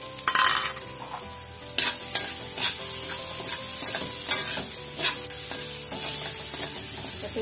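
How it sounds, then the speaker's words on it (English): Garlic, white onions and spring onion sauté in a hot pan with a bright continuous sizzle, punctuated by sharp clacks and scrapes of a spatula stirring. "Igigisa na natin siya. Syempre, another garlic, yan. Yan, the white onions, and the spring onion bits"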